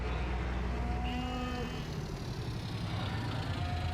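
Cows on a farm in Farming Simulator 19 give a few low moos, drawn-out and moderately near, over a steady low hum of machinery or ambience.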